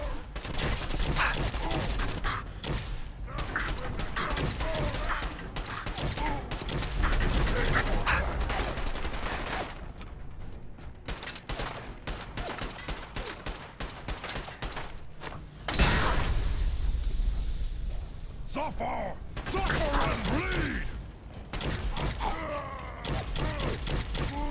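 Rapid gunfire from a gun in the Fallout 4 video game, dense bursts of shots rattling on and off over many seconds with brief pauses, loud and close, with a voice talking at times.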